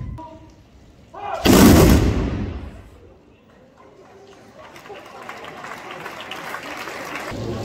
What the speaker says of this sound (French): Tirez ! Une salve d'honneur.